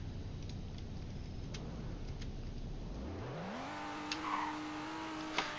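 A Rolls-Royce in a video game accelerates from 0 to 60, a steady low rumble that turns into a rising engine whine, which climbs and then holds at a high pitch.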